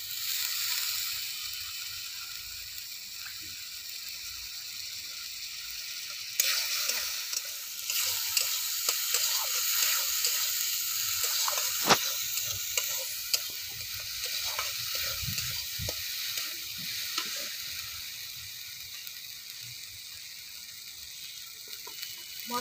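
Cabbage kalia masala fries in a pan as water is poured in, leaving a loud steady hiss and sizzle with occasional clicks and scrapes of stirring, close by and without speech.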